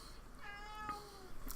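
A cat meows once in the middle, a fairly faint drawn-out cry heard over a quiet indoor background during a tabletop game session.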